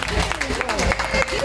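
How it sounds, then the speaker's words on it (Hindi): Applause for Lokhande sahib at an Independence Day celebration in an ashram: a short stretch of crowd clapping running under someone talking loudly on a microphone. "जोरदार तालियां लोखंडे साहब के लिए"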